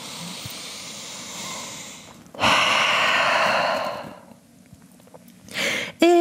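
A deep breath taken while holding a downward dog yoga pose, heard as a loud, close breathy rush lasting nearly two seconds, with a shorter breath sound following after a quiet pause.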